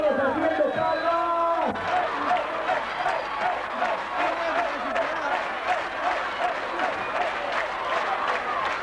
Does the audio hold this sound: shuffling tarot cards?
no